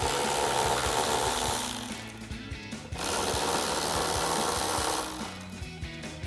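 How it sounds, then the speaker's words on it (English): A ratchet with a 10mm socket and extension runs nuts off a 2021-2024 Ford Bronco, giving a close, continuous rapid clicking that surges loudly, eases briefly, then picks up again. "grab our 10mm socket and extension on our ratchet and go ahead and run these 10mm nuts off"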